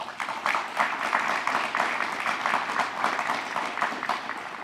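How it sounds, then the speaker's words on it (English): An audience at a county agriculture event applauds, a dense, even wash of many hands clapping steadily at moderate distance for several seconds. "please give them a big round of applause"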